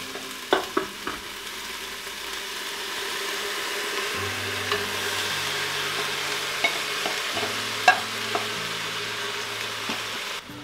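Browned ground beef stirred in an Instant Pot, a steady low sizzle with a few scattered scrapes and knocks of a utensil against the pot, close and alone.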